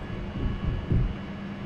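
An airliner climbs after takeoff in a flight simulator game, giving a steady low engine rumble that swells briefly midway, with no voices over it.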